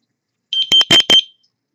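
Carbon monoxide detector alarm going off in a short burst: a few rapid shrill electronic beeps, close and loud, then silence.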